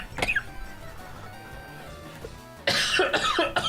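One sharp cough near the start, then quiet room tone, then a burst of louder noisy sound that could be laughter.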